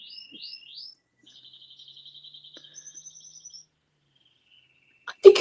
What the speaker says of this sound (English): I think your birds are happy, Vincent.